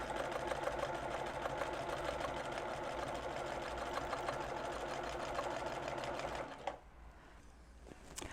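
A sewing machine runs at a steady, fast stitching pace while quilting along a ruler. The dense mechanical whir is close and continuous for several seconds, then stops abruptly, leaving faint room noise and a small knock.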